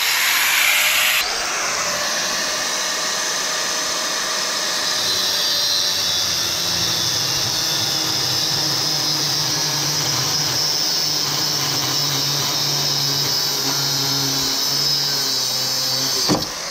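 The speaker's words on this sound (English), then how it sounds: "So now I can take the angle grinder and make a cut over there." Angle grinder cutting through a coil spring from a Mercedes W203, a loud steady high-pitched grinding hiss that runs unbroken for the whole stretch after a brief start.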